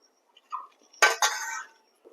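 A lid lifted off a covered pot of simmering vegetables, followed by a couple of short metallic clinks and a brief scrape of stirring, close and sharp against near silence.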